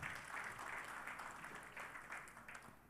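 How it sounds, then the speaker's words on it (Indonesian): Faint, distant applause from an audience at the launch of Indonesia's National Retail Day 2025, a soft continuous patter of many hands with a slightly brighter burst in the middle. "kita berikan tepuk tangan yang meriah"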